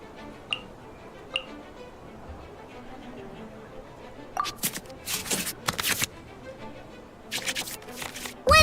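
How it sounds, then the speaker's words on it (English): Cards are shuffled back into the draw pile in the Genshin Impact card game, heard as quick papery riffles and snaps in short bursts after a few faint ticks, close and fairly loud. "we can select any number of cards in our hand to shuffle back into the draw pile"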